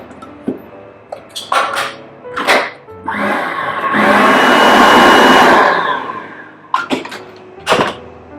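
An electric whisk mixes Victoria sponge cake batter with full cream milk, a steady whirring burst of a few seconds set between sharp clinks and knocks against the bowl.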